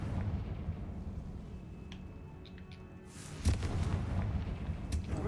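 A Confringo blasting-spell explosion in Hogwarts Legacy, a sudden booming burst about halfway through that rises from a low rumbling background and leaves a continuing roar after it.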